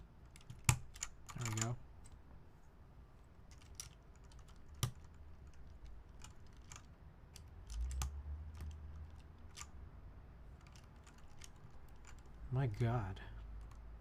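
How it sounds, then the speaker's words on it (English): Plastic keycaps clack onto a computer keyboard in scattered taps and a few firmer presses, close and fairly quiet, with a person speaking briefly in between. "Struggling to get this in. Is this keycap messed up?"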